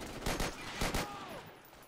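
A mounted machine gun fires in the online shooter Forgotten Hope, in two quick rattling bursts at moderate distance with a hush of battle noise between and after them. No one speaks.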